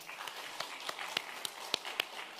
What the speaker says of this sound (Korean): 한번 박수 쳐보도록 하겠습니다